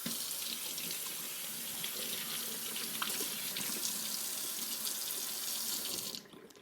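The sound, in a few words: rinsing bell pepper pieces under running tap water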